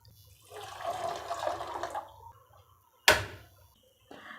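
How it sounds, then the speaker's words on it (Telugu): A cupful of water is poured over soaked sago in a kitchen, a brief splashing pour followed by a sharp clunk of the cup or pot, close and without speech. "ఇదే కప్పుతో 1 కప్పు నీళ్ళు పోసుకోవాలి"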